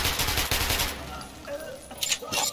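Rapid automatic gunfire in Metro: Last Light: a fast rattling burst of shots fills the first second, then fades, with scattered further shots and impacts near the end and a voice heard faintly amid the action.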